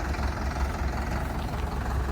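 A heavy tractor engine rumbles steadily at low pitch as it drives away, running without pause, moderately loud and fairly close.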